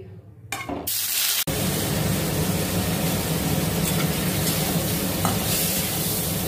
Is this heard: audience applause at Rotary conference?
no